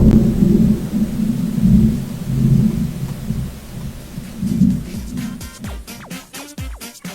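Thunder rolls over steady heavy rain in the racing game Forza Horizon 5, a low rumbling storm that swells and recedes, ending in sharper crackling pops.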